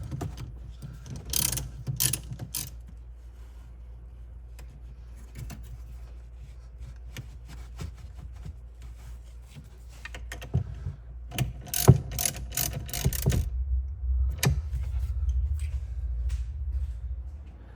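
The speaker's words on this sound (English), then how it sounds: "Tighten it down with a 10mm socket." Ratchet with a 10mm socket tightening a car battery terminal on a Dodge Challenger, giving bursts of quick mechanical clicking and clatter, with a louder busier stretch near the end over a low background hum.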